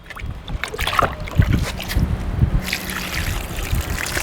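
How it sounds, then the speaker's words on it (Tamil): Water poured onto a grow bag in a terrace garden, a loud, steady splashing and gurgling that runs throughout with some wind rumble at the microphone. "தண்ணி ஊற்றும் போது கொஞ்சம் எல்லா இடத்துலையுமே ஸ்ப்ரெட் பண்ணுற மாதிரி ஊற்றுங்க"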